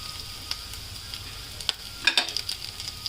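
Nalleru stalks fry with salt in a pan, giving a steady soft sizzle with a few louder crackles and stirring clicks toward the end.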